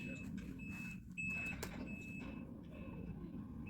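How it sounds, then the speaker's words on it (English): Snowmobile with a jammed reverse giving off repeated electronic beeps in a snowy valley, thin tones recurring over a steady engine-like hum, with a sharper click midway. "It's just making this annoying beeping sound."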